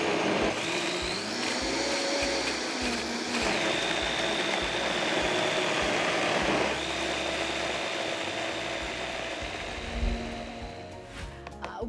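A countertop blender whirs steadily through a vegan paneer sauce for a matar paneer dish, a loud continuous motor drone with slight pitch shifts as the blend thickens, running close and alone for most of its length.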